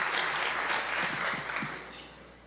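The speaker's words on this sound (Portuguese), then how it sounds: "Você pode aplaudir nossos voluntários, celebrar a galera aí." A church congregation applauds volunteers: broad clapping from a crowd, moderately loud at first and gradually fading toward the end, with a few low voice sounds briefly mixed in.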